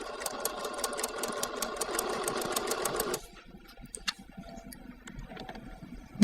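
A sewing machine stitches a welt pocket on a waistcoat in a steady, fast, rhythmic run for about three seconds, then stops. A few small clicks and a quiet pause follow.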